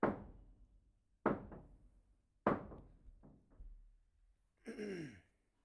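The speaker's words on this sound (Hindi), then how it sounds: "एक्चुअली बगल वाली बिल्डिंग में काम चल रहा है" Construction work from a neighbouring building: a sequence of sharp, loud knocks and bangs with decaying ringing tails, three heavy impacts and a couple of lighter ones, ending in a brief harsher scraping burst, with no talking.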